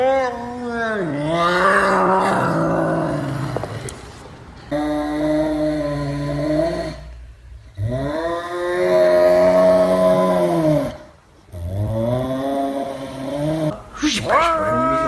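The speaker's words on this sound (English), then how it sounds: "This is an F1 Savannah cat, and they're one of the most expensive domesticated cats you can possibly own." F1 Savannah cat, a large domesticated hybrid breed, gives long, loud drawn-out yowls and wails close by, several rising and falling calls separated by short pauses, with no talk over them.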